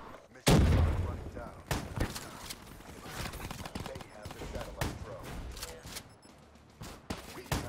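Rapid gunfire from a shooter video game, a dense run of sharp broadband bursts after a loud opening shot, continuing at an irregular pace through the whole stretch with game sounds beneath.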